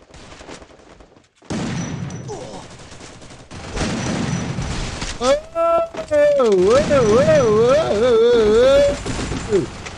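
A long-range shotgun firing in Free Fire, heard as a few quick blasts amid steady game noise, with someone talking excitedly over much of it.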